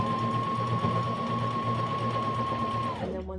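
A sewing machine runs steadily while stitching elastic onto a wool diaper cover, a close, continuous motor whir with a high running tone that slows and stops near the end.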